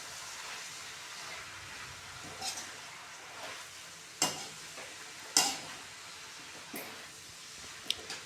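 Fenugreek leaves frying with potatoes in a home kitchen pan, a steady soft sizzle with a few sharp stirring scrapes and clicks at intervals, close by and fairly quiet, with no talking.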